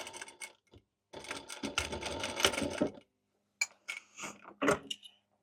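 A sewing machine stitches a Halloween pennant banner in quiet, close bursts: a short run, then a longer rattling stretch of stitching, followed after a gap by a few brief starts and clicks.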